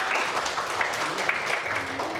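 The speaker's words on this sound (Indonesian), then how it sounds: "tepuk tangan buat kelompok 1" A classroom group claps for its own first presentation team: steady, dense clapping from many hands that runs evenly throughout at moderate loudness, with no voices standing out.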